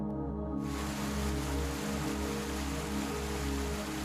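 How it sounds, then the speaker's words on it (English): Upper Mesa Falls pours with a steady, dense roar of rushing water, a constant broadband wash that holds even and loud throughout with no voices. "This incredible waterfall is actually split into 2 impressive sections, the towering Upper Mesa Falls and the scenic Lower Mesa Falls."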